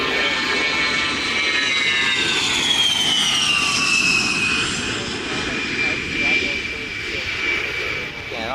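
Airplane arriving on runway 36 at Oshkosh with its gear up, loud continuous engine roar with a sliding whine as it passes close by, while someone talks over it.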